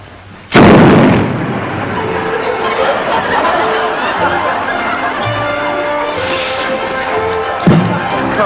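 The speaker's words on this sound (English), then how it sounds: "when I light that, it'll explode" Comedy explosion sound effect in an old sitcom: one sudden loud bang followed by a long rumbling decay, with a smaller pop near the end.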